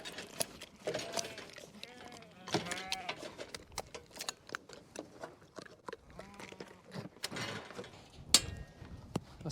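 Adult sheep crowded in a Prattley mobile sheep handler race bleat repeatedly at close range, their calls overlapping with knocks and rustling from the pen.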